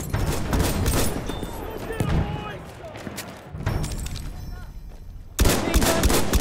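Machine gun fire in the First World War video game Battlefield 1, dense rapid bursts of gunfire amid battle noise and thuds, loud and close, pausing briefly before resuming, with shouting voices over it.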